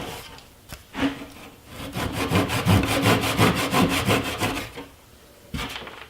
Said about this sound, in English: now I'm going to cut the plug flush with the tabletop with a pull saw